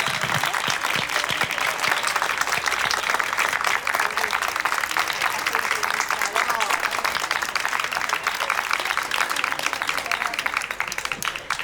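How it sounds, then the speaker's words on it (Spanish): Sustained audience applause fills the room after a talk at an anniversary discussion event, dense steady clapping throughout with crowd murmur and some voices mixed in. "voy a pedir un fuertísimo aplauso para Dora y agradecerle esta charla."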